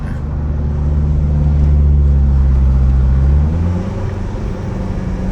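A car engine strains loud and steady while climbing a steep mountain road at about 1,600–1,700 m on Doi Luang Chiang Dao, its drone swelling and easing as the throttle is held smooth and even.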